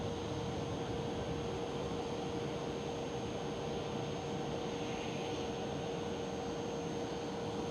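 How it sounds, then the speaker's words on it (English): KLM Cityhopper Embraer E195-E2 jet departing Schiphol Amsterdam, heard as a steady, broadband engine roar with a constant tonal hum, moderately loud and sustained throughout without talk. "there goes KLM Cityhopper E195E2"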